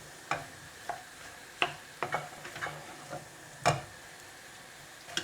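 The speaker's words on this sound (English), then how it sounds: "Now add the potatoes, and now a good mix" Boiled potatoes are stirred in a pan for vada pav filling, a soft background sizzle with sparse sharp clinks and scrapes of a spoon against the pan at uneven intervals, quiet and without speech.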